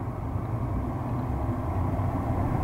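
A tan 2006 Ford F-150 4x4 pickup truck on the move: a steady, dense low rumble of engine and road noise that holds evenly throughout with no pauses, as if heard from inside the cab.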